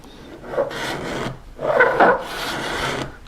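Scraper worked along a wooden crown molding for a high chest, giving two bursts of dry rasping strokes, close and fairly loud, with no talk.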